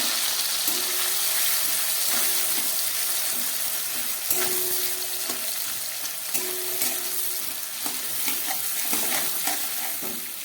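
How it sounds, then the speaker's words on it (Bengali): Chopped onions frying in hot oil with whole cumin seeds for a Tangra fish curry, a steady close sizzle broken by several scraping stirs of a spatula against the pan, with no voices. "এবারে দিয়ে দিচ্ছি কেটে রাখা পেঁয়াজ।"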